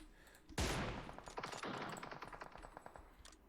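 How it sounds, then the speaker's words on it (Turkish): Gunfire from the mobile battle royale game PUBG Mobile: a sudden loud burst of shots, then a dense run of rapid repeated reports fading off over a few seconds, with no talk over it. "Enes sana mı sıkıyorlar onlar?"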